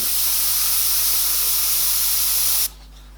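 An airbrush blows a loud, steady hiss of air to dry paint on a sealed board, holding constant for a few seconds before cutting off abruptly.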